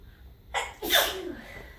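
A single close sneeze, a quick breath in then a sharp explosive burst, over a low background hum, during a laminate flooring installation.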